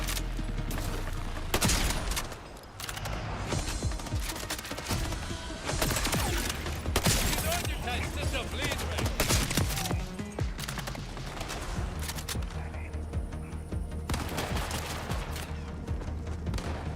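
Repeated gunfire from Jacobs weapons in a video game, ricocheting shots in dense, loud bursts across most of the stretch, with brief lulls between volleys.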